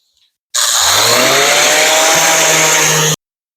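A loud 6-inch power sander whirs up abruptly on a wooden cutting board and runs steadily at close range for a few seconds, then cuts off sharply into silence.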